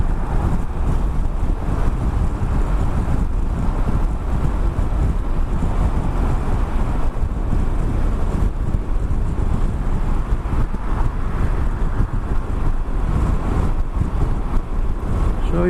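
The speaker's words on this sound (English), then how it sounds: "The bike's very smooth. Into 6th gear, and it's really very nice." Yamaha Super Tenere 1200Z motorcycle cruising in sixth gear at motorway speed, a steady, loud rush of wind buffeting the microphone over a low continuous engine drone, unbroken and without talk.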